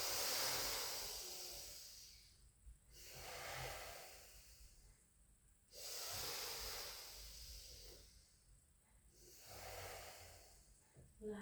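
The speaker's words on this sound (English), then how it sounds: "take 3 deep in-out breaths" Slow, deep in-and-out breaths during a Pilates session, soft and close, each breath a long airy rush rising and falling in a steady rhythm of about four cycles, alone and faint.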